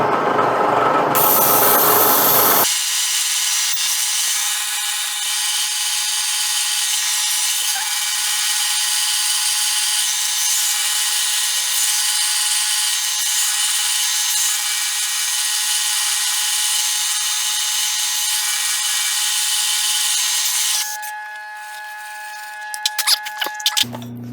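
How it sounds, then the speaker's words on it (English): A power drill whines continuously through a titanium plate for a long stretch, high-pitched and steady, before stopping and giving way to a few clanks. "we're going to drill some holes in the plate"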